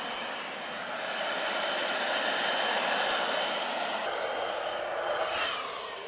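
An electric air blower fills a Takacat inflatable boat with a steady, broadband whooshing roar that swells slightly and then holds, close and unbroken, with no voices.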